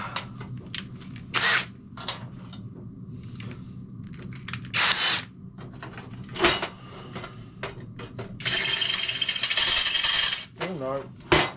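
Short bursts of a power drill whirring on rusted motorbike exhaust bolts, with one longer grinding run, separated by clicks and quiet handling noises.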